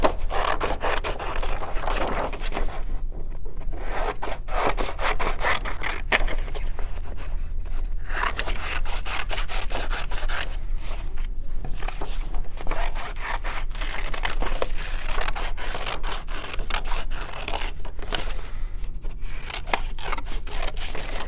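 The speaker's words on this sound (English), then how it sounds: "And then I'm going to cut out my gumball machine." Scissors cut a paper gumball machine shape from background paper, close continuous snipping and rustling of paper with brief pauses, no talking.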